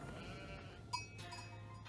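A sheep bleats once, faint and short, in an Age of Empires 4 match, over a steady game soundscape with background hum.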